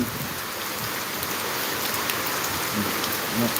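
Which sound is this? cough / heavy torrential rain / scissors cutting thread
heavy torrential rain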